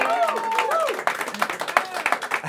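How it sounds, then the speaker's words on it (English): An audience gives a round of applause, a busy patter of many hands with voices calling out over it, then settling into thinner, uneven claps. "give her a round of applause once again"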